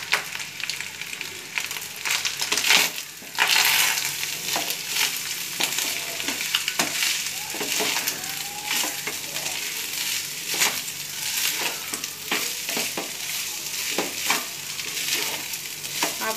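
Fried rice stir-frying in a pan with pepper and spices, a steady close sizzle with repeated scraping and stirring strokes throughout, no talking.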